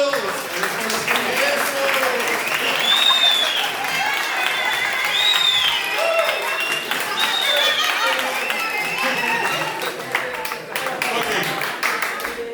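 A church audience applauds during a sermon, a steady spread of clapping lasting several seconds, with voices talking and calling out over it.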